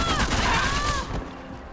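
A short, dense burst of rapid M4 rifle fire from Max Payne 3 multiplayer on PC, loud and continuous before tapering off into a fading tail.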